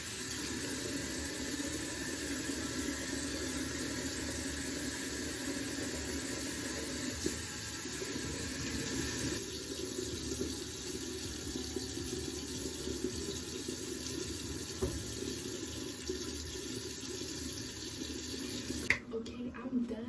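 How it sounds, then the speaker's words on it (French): A tap runs steadily into a sink as cold water is splashed on a face, a constant close rushing stream with brief splashes and a clunk near the end, a voice faintly present. "Je vais juste mettre de l'eau froide sur ma face là."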